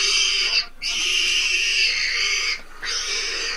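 A wild boar caught by a leopard squeals violently in a loud, continuous, harsh shriek broken by two brief gasps for breath, close and intense.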